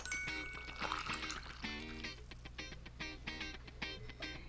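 Water poured into a blender jar over soaked cashews, pine nuts and garlic for a deep, nutty Korean vegetable broth, heard as a steady close trickle with light clinks, overlapping faint voices and kitchen sounds.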